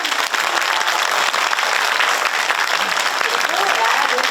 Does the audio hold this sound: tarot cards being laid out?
no